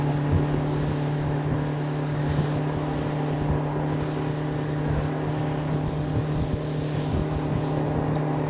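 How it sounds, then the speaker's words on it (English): Steady wind buffets the microphone on a lake during catfish fishing, a constant low roaring rumble mixed with a droning engine-like hum, loud and unbroken throughout with no talking. "Gosh, dang wind."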